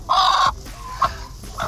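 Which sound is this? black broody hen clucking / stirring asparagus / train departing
black broody hen clucking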